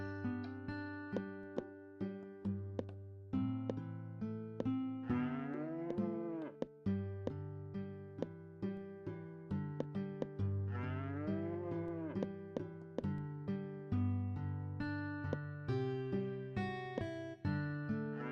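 Cow mooing in the video game Harvest Moon: Hero of Leaf Valley, a run of synthesized, tonal moos over steady game music with plucked notes, clear and close with no talking.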